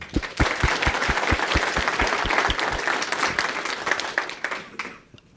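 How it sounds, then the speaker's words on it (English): Audience applause at a signing day event, a dense burst of clapping from a crowd with a few sharp, close individual claps standing out, sustained and then fading away near the end. "I'd like to give you a round of applause for being here for this event tonight as well."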